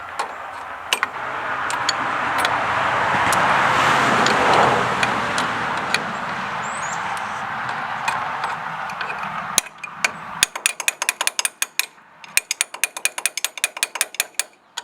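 A ratchet wrench cranks an alternator into place on a Ford 3000 tractor during a 12V conversion: a steady scraping, rustling stretch, then rapid runs of sharp, close mechanical clicks near the end, with no talking.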